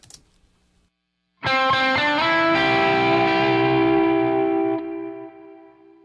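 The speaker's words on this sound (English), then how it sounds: "more gain, I would say, on the amp, pushing into the input of the amp." After a short silence, a single electric guitar chord, distorted by a high-gain amp and an MXR reverb pedal, rings out loud and sustains with reverb, slowly fading over several seconds.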